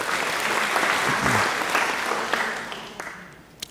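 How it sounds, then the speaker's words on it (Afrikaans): A church congregation bursts into sustained applause during a Sunday service, dense and loud at first, then thinning and fading as scattered claps trail off near the end. "Kom ons gee sommer vir hulle 'n hande klap."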